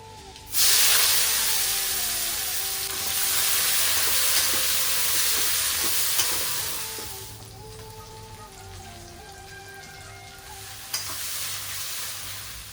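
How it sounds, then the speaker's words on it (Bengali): A loud burst of sizzling as nigella seeds and onion hit hot oil in a wok, hissing steadily, then easing into a softer fry with faint clinks. "একটু কড়াইতে কালো জিরে আর পেঁয়াজ ফোড়ন দিয়ে নিলাম"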